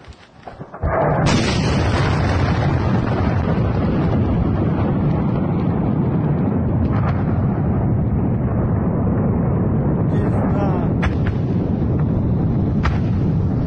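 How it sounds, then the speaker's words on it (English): A sudden blast gives way to a heavy, sustained roar that rumbles on for many seconds, with occasional crackling bursts on top. "Something definitely exploded."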